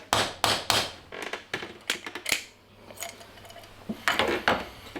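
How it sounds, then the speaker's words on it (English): An inertia bullet puller is struck against a hard surface to knock out a bullet during ammunition reloading, producing a series of sharp, close, hard knocks in irregular bursts with a rattle of small parts and no talk. "Back with the bullet puller. Then give it a tap out."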